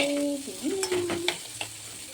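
Ingredients fry in a pan before Maggi noodles go in, a close, steady sizzle broken by a few sharper clinks and scrapes of stirring.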